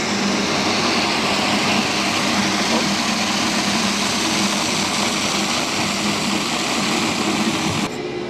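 A SUNWARD 4528 skid steer with a Mericrusher rotary tiller grinds ice, its engine roaring steadily with a grinding, churning noise throughout, close by and continuous, cutting off near the end.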